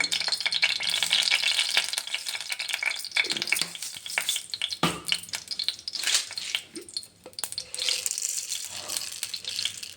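Mustard seeds spluttering in hot oil in a pan while cooking an onion palya, a dense, steady crackling and popping sizzle that stays loud and close, with a few sharper pops standing out.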